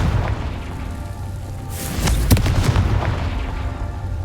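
A Confringo spell explosion in the Hogwarts Legacy video game, a deep boom with a sharp crackling burst midway, rising over a steady low rumble of game ambience.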